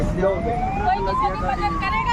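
A fire brigade vehicle arrives at a roadside car accident, its siren wailing in a rising, sustained tone at moderate distance over traffic noise, with people talking beneath it.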